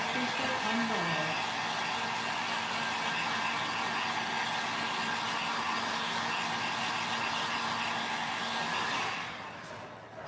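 A hair dryer blows steadily at close range over drying watercolour paint, a loud continuous whooshing hum that runs nearly ten seconds before cutting off abruptly at the end.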